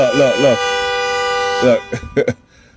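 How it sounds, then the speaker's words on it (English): Vehicle horn honking, a long loud sustained blast followed by two short toots, with a voice speaking at the very start. "As soon as I stood up here talking, he honked his horn, right?"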